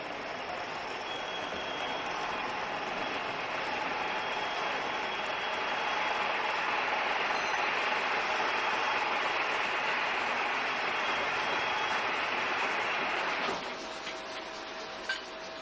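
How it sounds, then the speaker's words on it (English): A silk warping mill winds threads drawn from bobbins on a large wooden creel through three metal reeds, giving a steady, dense mechanical whir with a faint rattle that runs evenly before dropping slightly near the end. "The threads pass through a series of 3 metal reeds on their way to the warping mill."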